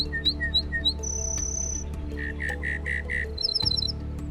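Wild birds chirping and singing: quick repeated high tweets, a sustained whistled note, then a run of rapid chirps and trills, fairly close over a low constant background hum.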